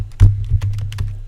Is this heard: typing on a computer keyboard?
yes